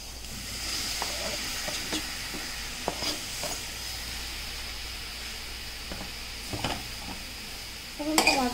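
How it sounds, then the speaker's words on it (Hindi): Chopped tomatoes and boiled potatoes cook in a pan for pav bhaji, giving a low steady sizzle broken by scattered utensil clinks and scrapes against the pan, close and without talk. "अब हम टमाटर को थोड़ा पकने देंगे, may be for half a minute"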